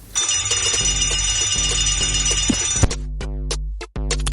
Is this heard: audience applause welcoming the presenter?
no